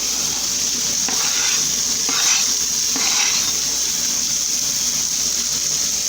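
A New York steak sizzling steadily in a pan with garlic and chopped chipotle peppers in their canned sauce, with a constant loud hiss and a few soft stirring scrapes.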